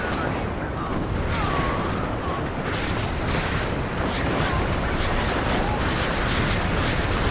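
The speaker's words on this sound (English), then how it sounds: "So many rockets landing." Rocket artillery strike landing in the video game WARNO, a continuous dense barrage of rumbling impacts and crackling blasts, loud and sustained without pause, with a voice talking over it.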